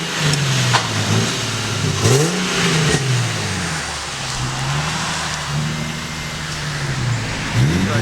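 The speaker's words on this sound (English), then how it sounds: "it's been a couple of days since I've had my exhaust done, and I love the way it sounds" An Infiniti G37 with a freshly fitted custom exhaust revs repeatedly, deep engine notes rising and falling in several close blips with a low steady idle between them.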